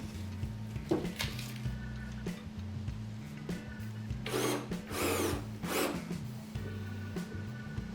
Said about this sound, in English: I can drill the final holes on that